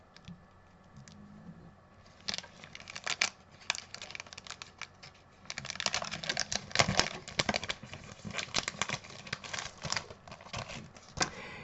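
Scissors snipping through a paper strip for a handmade black-and-white scrapbook card, with quiet irregular cuts at first, then denser, louder bursts of close crisp snipping and rustling paper.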